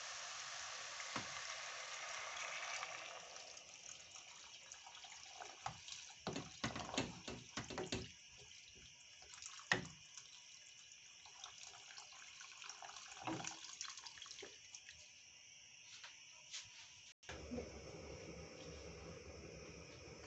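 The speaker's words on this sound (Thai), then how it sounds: "เราก็มาเติมน้ำกันนะคะ" Tap water running into a cooking pot in a home kitchen, a steady close rush with some clatter and shifts in flow, then a change in tone near the end, no voices.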